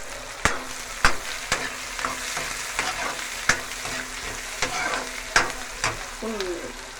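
Onions sizzle in hot oil with cumin in a pan while a spoon stirs and knocks against the metal in sharp, repeated taps, close and fairly quiet, with no talking.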